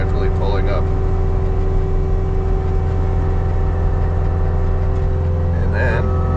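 A Cat 259D3 compact track loader grading with a power rake drones loudly and steadily up close, its engine holding a constant low rumble with a whining hydraulic tone, and a voice is heard briefly near the end.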